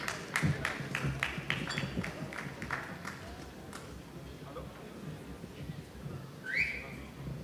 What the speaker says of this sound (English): A round of applause for Banj